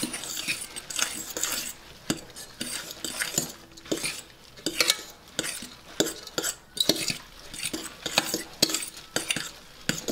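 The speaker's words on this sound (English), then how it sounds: "So you just want to give it all a mix." Grated zucchini, egg and Parmesan cheese are stirred together in a bowl, making repeated wet, squelching scrapes and clinks of a utensil against the bowl in an uneven rhythm, close by and with no talking.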